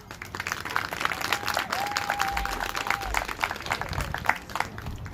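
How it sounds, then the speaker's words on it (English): Students at a Crandall Compass Academy awards ceremony applaud their parents, filling a hall with sustained, fairly dense clapping from a crowd while a faint tone hums beneath it. "Students, can you give your parents a round of applause?"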